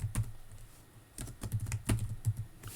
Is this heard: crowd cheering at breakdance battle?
no